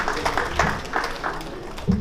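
Short burst of audience applause at an Ijaw diaspora convention session, scattered claps at close and middle distance for about two seconds, patchy rather than a full ovation.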